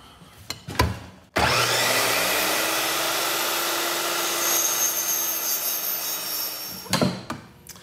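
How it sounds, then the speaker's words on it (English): A chop saw, also called a miter saw, spins up with a sharp start, runs as a loud, steady, close whine for about five seconds, then cuts off, with brief knocks and handling clatter before and after. "Tool number two on my list is the good old-fashioned chop saw, otherwise known as a miter saw."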